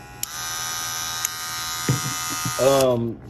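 A cordless Magic Clip hair clipper with a new blade runs with a loud, steady high buzz that cuts off near the end as a voice starts talking.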